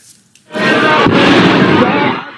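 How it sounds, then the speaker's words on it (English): A loud explosion erupts in a crowd of mourners after a brief quiet moment, a broad roaring boom that rumbles on for over a second before fading. "two explosions ripped through a crowd of mourners"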